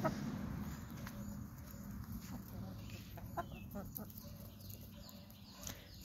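Hens cluck softly in a farmyard while being fed bread, scattered faint clucks and footsteps against quiet background noise.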